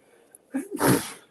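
One sharp sneeze, close and loud, with a quick breath drawn in just before it, in a quiet indoor room.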